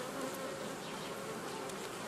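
A dense, even hum of honeybees fills an apiary while brood frames are moved between colonies in late July, a constant close buzzing with no voices.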